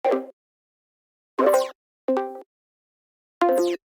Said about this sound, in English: the Discord mute sound and then the Discord unmute sound